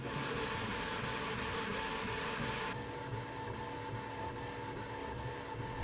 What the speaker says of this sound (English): I'm glad these glass doors are there because this thing is loud, and that's completely normal for 3D printers